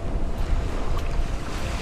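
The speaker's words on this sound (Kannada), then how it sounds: "ತುಂಬಾ ಹುಷಾರಾಗಿರಬೇಕು, ನೀರು ಬರ್ತಾ ಉಂಟು, ಅಲೆ ಬರ್ತಾ ಉಂಟು" Ocean waves wash in at Panambur beach in Mangalore. A close, steady roar of surf mixes with gusty wind buffeting the microphone.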